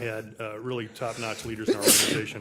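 A single sneeze bursts out near the end of a formal committee meeting, cutting across a man's steady speech about the organization's leadership.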